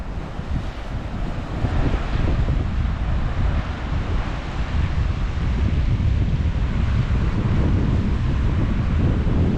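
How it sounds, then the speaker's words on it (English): Coastal wind buffets a GoPro camera microphone above turquoise water near Coffs Harbour, producing a loud, continuous low rumble and roar with no break. "I think the GoPro might pick up the wind."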